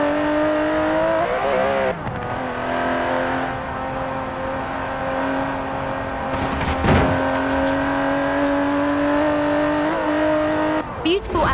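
Aston Martin DB11 engine in Forza Horizon 4, a steady droning hum holding pitch while cruising, briefly dipping near the start and end, with a sharp whoosh partway through.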